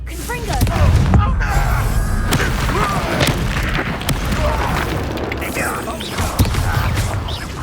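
A Confringo blasting spell in Hogwarts Legacy: booming explosive thuds and crackling impacts amid mechanical clanks and creaks, loud and repeated across a busy battle, with a voice shouting over it.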